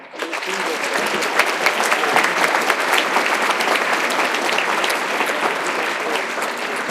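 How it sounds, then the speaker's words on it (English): Family members in the audience at an elementary school band and orchestra winter concert applaud the students, a dense, steady wave of clapping that rises quickly and holds evenly for several seconds. "they deserve a round of applause for their commitment"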